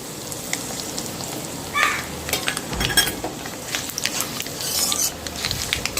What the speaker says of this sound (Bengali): সমস্ত ফোড়নগুলো খুব ভালো মতো আমার ভাজা হয়ে গেছে।